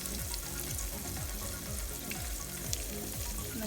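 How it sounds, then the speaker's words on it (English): Jumbo shrimp fry in olive oil over low heat, a steady close crackling sizzle that runs throughout with no voices. "So yes, I'm cooking them in olive oil."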